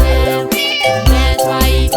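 Repeated cat meows set in an Amharic children's song, several close, loud, tonal mews following each other in a bouncy rhythm over the accompanying music.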